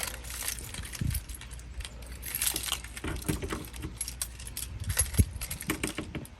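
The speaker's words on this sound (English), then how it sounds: "Wife has way too many keys on this key ring." A crowded key ring holding many RV lock keys, shaken so the keys jangle and clink in irregular bursts, close to the microphone, moderately loud and with no speech.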